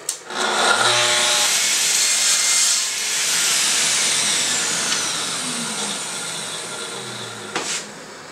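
A power saw cuts a wooden hall table leg to length, with a steady loud whine of about six seconds that rises at the start, then a brief second cut near the end; no one speaks.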